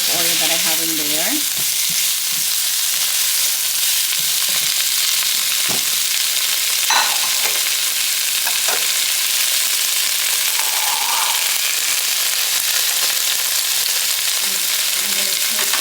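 Red peppers and onion fry in a little olive oil, a loud, dense, continuous sizzle close by with a few spoon scrapes and knocks scattered through, no voices.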